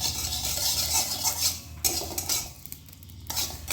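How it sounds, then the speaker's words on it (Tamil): Mustard seeds spluttering and popping in a hot pan, with dense crackling and sizzling along with scraping and stirring against the metal, fairly close and steady with no talk. "கடுகையும் சேர்த்து நல்லா பொரியிற அளவுக்கு விட்டுறலாம்"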